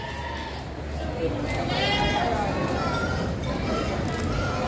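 Goats bleat at a busy livestock market in Padre Garcia, Batangas, their calls rising over crowd noise while someone speaks nearby.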